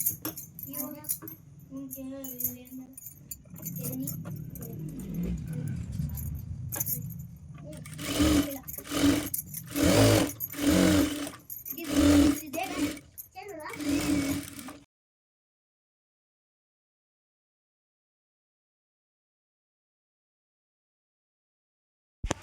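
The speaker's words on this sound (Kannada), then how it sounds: "ಇನ್ನು ಈ ಕಡೆನೂ ಕೂಡ ಸ್ಟಿಚ್ ಮಾಡ್ಕೊಬೇಕು ಜಾಯಿಂಟ್ ಮಾಡ್ಕೊಬೇಕು" A home sewing machine stitches the seams of a girl's palazzo top in short, rapid bursts of clattering needle runs, with someone talking over and between them before the sound cuts to silence.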